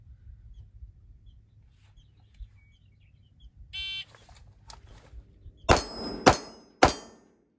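A sharp electronic shot-timer beep, then after a short pause three loud gunshots in quick succession, each followed by a faint metallic ring of bullets hitting steel targets, outdoors with little else around.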